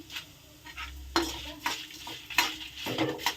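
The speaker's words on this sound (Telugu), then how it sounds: "ఇంక ఇవన్నీ కూడా కొంచెం దోరగా వేపేసుకోవాలి." Dried red chillies fry and get stirred in a pan while a spicy powder of drumstick leaves is prepared, with scraping spatula strokes against the metal and a soft sizzle that rises in several bursts.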